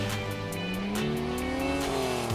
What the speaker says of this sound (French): ils sont interrompus par deux voitures qui font la course